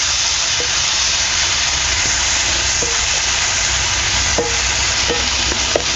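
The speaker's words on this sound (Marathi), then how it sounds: "आणि कांदा आहे ना थोडंसंच आपल्याला ना लालसर होतपर्यंत आपल्याला परतून घ्यायचं" Chopped onion sautés in a pan until reddish while being stirred, a loud steady frying hiss with occasional faint scraping taps of the spoon.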